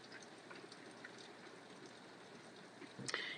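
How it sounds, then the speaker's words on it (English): Rain falls steadily outside as a faint, even patter and hiss with no voices, and a brief louder knock comes near the end. "And there's rain outside, and I love it."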